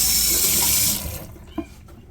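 Tap water runs hard into a kitchen sink while garlic is rinsed, a loud steady gush for about a second that then drops to a softer trickle with a small knock.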